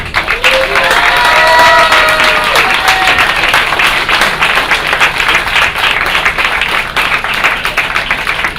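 A concert audience claps for the pianist at an album presentation evening, loud sustained applause with some cheering voices near the start and a few lingering sung or whistled tones, the clapping steady throughout.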